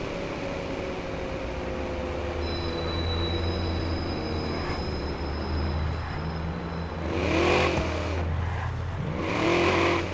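A car engine drives steadily through the city in Watch Dogs, a low continuous drone with rumbling surges that swell loud near the end, heard alone without talk.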